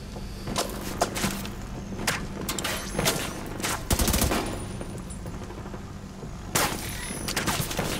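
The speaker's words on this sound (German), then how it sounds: "da hat sie doch gerade versucht, auf uns zu schießen" Bursts of automatic gunfire from an enemy in the shooter game The Division 2, sounding as several short volleys at moderate distance with quiet gaps between them.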